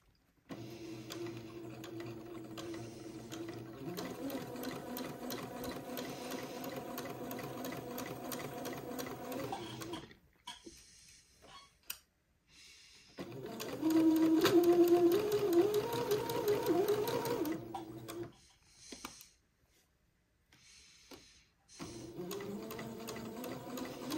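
A sewing machine stitches the second pass of a French seam on fabric, running in steady whirring bursts separated by short pauses, the middle run the loudest, with no talk over it.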